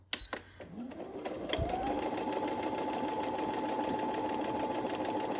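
A sewing machine stitching a seam on a zipper pouch starts with a few clicks, then its motor winds up into a steady, close, humming run of rapid stitching.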